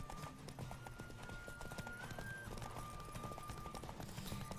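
Rhythmic hoofbeats of a galloping horse in The Witcher 3 amid game music and a steady tone, the clip-clop running throughout at a fast pace.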